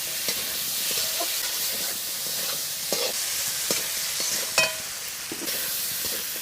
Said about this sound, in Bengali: লঙ্কা গুঁড়ো, পাকা টমেটো, কাঁচা টমেটো, আলু ভালো করে একটু ভেজে নেব।